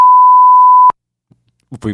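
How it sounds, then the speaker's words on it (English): A single loud, steady tone beep lasts almost a second, then cuts off abruptly, followed by brief silence and the start of a voice. "We'll beep that right there."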